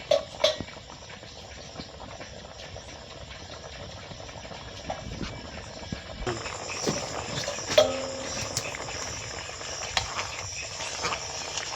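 Taro pieces simmer in a home kitchen pot, giving a soft, steady bubbling hiss with occasional faint clinks of utensils; the sound grows slightly busier partway through.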